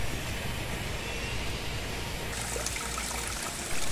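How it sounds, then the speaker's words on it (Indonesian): Water flowing in a forest stream, a steady close rushing and trickling wash that continues unbroken throughout. "misal suara serangga di hutan dan juga suara air"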